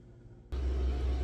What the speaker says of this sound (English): So I had to turn the dishwasher on, so I'm sorry for the noise.